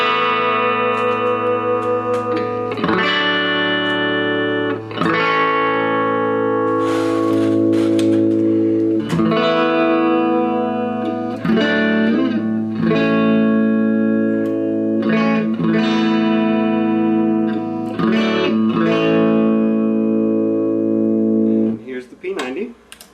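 Electric guitar, a 1997 Godin LG with Seymour Duncan P-Rails pickups on the blade rail setting, played as a series of ringing chords and single notes, strummed every few seconds and left to sustain, clean and up close.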